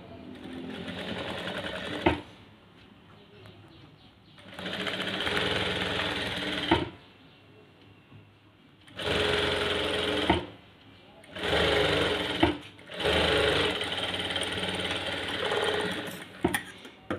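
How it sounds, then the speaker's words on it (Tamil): A sewing machine stitches a blouse lining in several separate bursts of rapid, buzzing needle action lasting one to two seconds each, with quiet gaps between runs, heard up close. "அப்படியே தச்சிடலாம்."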